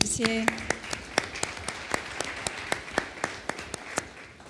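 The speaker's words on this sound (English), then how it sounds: "Alexandra, I think she really deserves a round of applause." A conference audience claps in a thin, scattered way, with a dozen or so distinct claps spaced through the few seconds, and a brief voice near the start.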